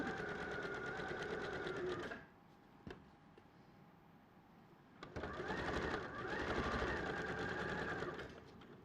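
A sewing machine whirs steadily while stitching a quarter-inch quilt seam on an attic windows block, stopping briefly for a quiet pause with a couple of clicks before running again.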